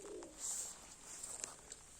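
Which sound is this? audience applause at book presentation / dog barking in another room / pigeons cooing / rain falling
pigeons cooing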